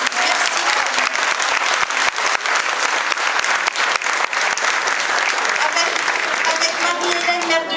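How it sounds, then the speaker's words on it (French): Loud, sustained applause from a crowd at a municipal New Year's greetings ceremony in Bièvres, honoring the first woman colonel of Air Base 107, dense rapid clapping filling the whole stretch. "j'aimerais qu'on l'applaudisse parce que c'est la première femme colonel de notre base aérienne"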